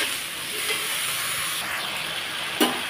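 Cut vegetables for puti fish chorchori sizzle and hiss steadily in a hot pan as they are stirred, with a brief louder scrape near the end.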